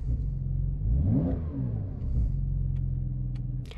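A 2020 Porsche 911 Carrera 4S (992) engine in Sport Plus mode with exhaust valves open revs up hard with a throaty exhaust roar, then settles back to a steady idle rumble nearby.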